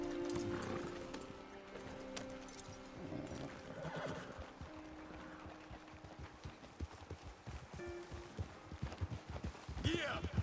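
Horses in the Western open-world game Red Dead Redemption 2, hooves clip-clopping at a walk alongside occasional whinnies and snorts, set under steady ambient game sound and some talk.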